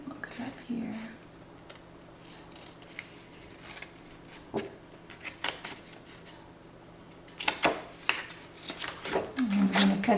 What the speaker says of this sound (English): I'm just cutting right down the center of those valley folds that I made